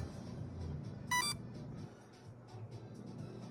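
A Spektrum ESC in an Arrma RC car beeps once on power-up, a short bright electronic tone sequence just after the first second, close and clear over a low background hum.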